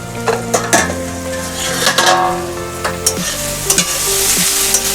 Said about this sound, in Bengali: এটা একটু ভেজে নিতে হবে ঢাকা দিয়ে দিয়ে।